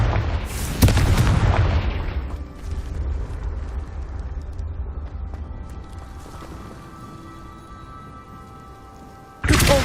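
A Confringo fire spell cast in the game Hogwarts Legacy sets off a sharp, loud blast followed by a long rumbling decay, then a second abrupt burst at the very end.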